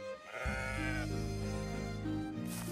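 A sheep's bleat, loud and close, set within a Bulgarian folk tale about shepherds whose flock is dying: one sustained, wavering cry with rich harmonics that holds steady for about two seconds before tapering off.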